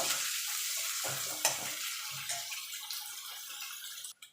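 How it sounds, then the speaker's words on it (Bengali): Steady sizzle of onions frying in a pan until reddish-brown, with occasional stirring scrapes, close and fairly quiet, no talking. "পেঁয়াজটাকে একটু লাল লাল করে ভেজে নেব।"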